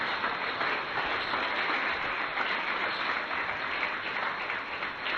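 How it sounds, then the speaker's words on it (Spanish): A church congregation claps for the Lord during a worship broadcast, a continuous, even wash of many hands that holds at a steady, moderately loud level without pause. "Dale fuertes palmas al Señor."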